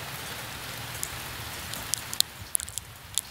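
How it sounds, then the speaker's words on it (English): Hail striking outdoors during a storm in Hemet, with a steady patter and a few sharp, distinct impacts, some apparently hitting a camera, growing more frequent toward the end; no talking. "it's hailing right now."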